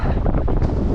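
Strong wind roars at a mountain top ski resort, buffeting the microphone in a loud, continuous rush with gusty swells and no talking.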